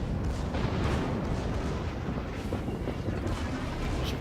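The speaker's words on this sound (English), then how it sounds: "As you can see, the rate of fire of the secondaries is just fantastic." Secondary guns of the battleship Bismarck fire in a naval combat video game, a dense, continuous rumble of booming shots rolling together at a steady level.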